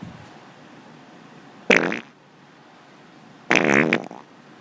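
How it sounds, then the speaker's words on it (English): A fart sound effect plays twice, two loud, buzzy blasts about two seconds apart, each lasting roughly half a second, with quiet in between. "You get the fart hammer."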